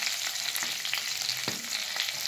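Hot oil sizzles and crackles steadily as curry leaves, fennel powder and asafoetida temper in it, with a few sharp pops and a stirring scrape partway through, close up and with no voices.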